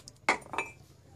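Metal spoon clinking against a glass while stirring and shaking a turmeric mixture with hot water, two distinct clinks after a faint tap, close and clear with a quiet background.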